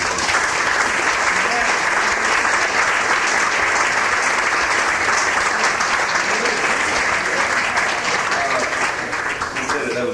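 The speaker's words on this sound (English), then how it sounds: "How about a nice round of applause for the great L." Steady, dense applause from a jazz club audience at the Jazz Forum in New York, sustained and full for the whole stretch and heard alone without talk.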